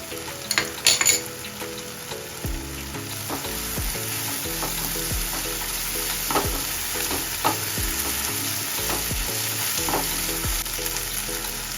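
Tomatoes sautéing in a pan with ginger garlic paste going in, a steady sizzle under tonal background music, with a few spoon scrapes and clinks near the start.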